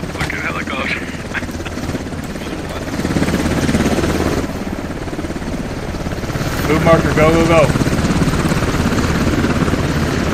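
A video-game helicopter drones steadily in a squad battle, its rotor and engine noise running throughout while people talk over it on voice chat.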